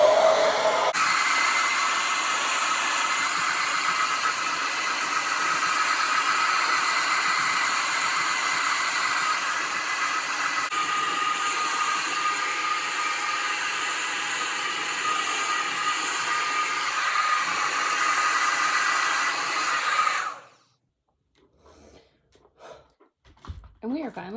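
A hair dryer blows steadily on hair at close range for about twenty seconds with a broad, even roar, then switches off abruptly, leaving a few faint rustles.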